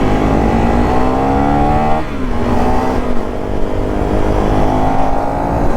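A Suzuki DRZ400 or KTM Duke 390 motorcycle engine revs hard at high RPM, loud and close, with the pitch dipping briefly before climbing again.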